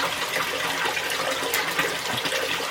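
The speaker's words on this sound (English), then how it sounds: "So let's put him in the pond." Water rushes and splashes as a koi fish is released into a garden pond, a continuous close gushing wash with no pause.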